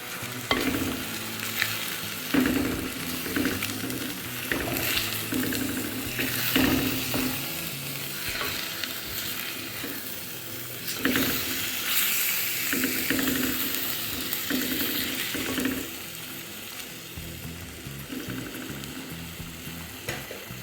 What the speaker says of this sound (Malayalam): ഇത് നമുക്ക് നന്നായിട്ട് അതൊന്ന് ഇളക്കി യോജിപ്പിക്കാം.